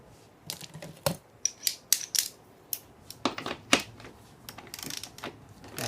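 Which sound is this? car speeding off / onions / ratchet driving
ratchet driving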